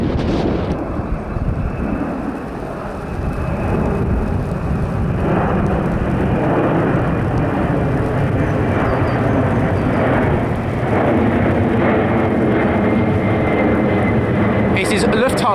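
A Lufthansa airliner passes overhead with a loud, sustained jet roar that rumbles on throughout, while someone talks over it.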